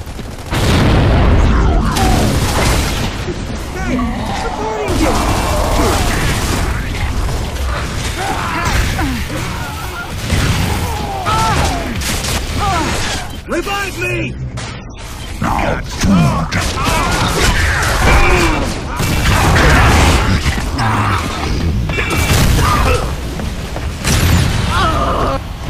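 Gears of War gameplay: a frag grenade goes off amid constant gunfire and mechanical clatter, loud booms and crashes repeating throughout, with voices talking underneath.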